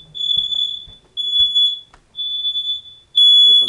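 Home smoke alarm sounding during a monthly test, a loud piercing high-pitched tone in repeated long pulses with short gaps, close and alone.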